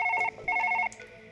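A telephone rings in the background of a Surgeon Simulator 2013 gaming session, two quick bursts of trilling electronic bell tones separated by a short pause, clear but moderately quiet, with no talk over them.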